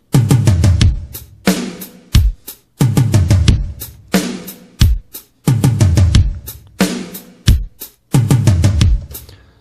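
Programmed drum track with hi-hat, bass drum and a roll, playing a steady repeating pattern of punchy kicks and crisp hits with short fills, loud and close, with no voices.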